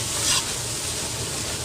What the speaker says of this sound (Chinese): 继续用大火翻炒均匀